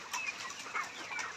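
Layer chicken pullets, about ninety-eight days old, clucking softly in a farm shed, with a few faint overlapping calls at a distance against a quiet background.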